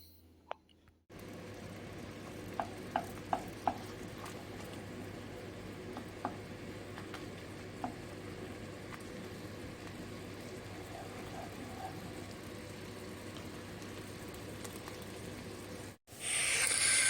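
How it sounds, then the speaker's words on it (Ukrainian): A steady frying sizzle of meat with garlic hisses throughout, with a few faint clicks and taps near the start, no voices. "Ось так піджарюємо м'ясо із часничком"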